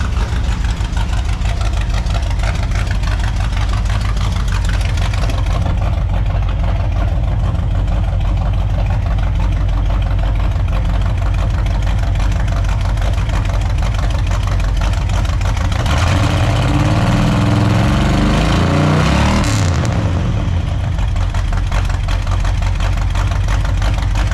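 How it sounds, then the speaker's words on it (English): A long-dormant 1964 Pontiac Catalina V8 barn find idles unevenly with a constant, close, loud mechanical drone, briefly swelling and shifting in pitch near the end as if lightly revved. "if it was a choppy cam, it would still idle like that, but it doesn't smooth out."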